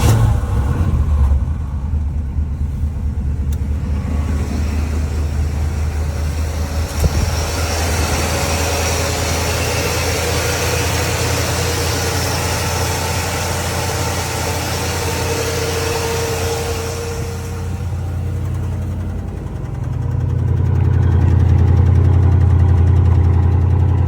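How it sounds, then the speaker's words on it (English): A 1975 Pontiac Catalina engine cold-starting and settling into a steady idle, a continuous loud mechanical drone that drops to a deeper, smoother rumble near the end. "Cold start."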